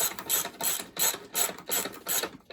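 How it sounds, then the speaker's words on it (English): A hand ratchet tightens a bolt on the rear fender of a Honda CL350 motorcycle, with loud close metallic clicking in quick repeated strokes and short pauses between pulls. "Got our ratchet going the right way. And tighten this bad boy home."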